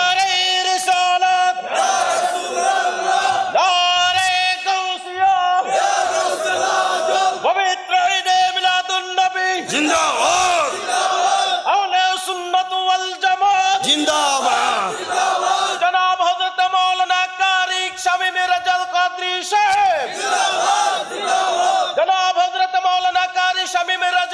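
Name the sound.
crowd shouting takbir, Allahu Akbar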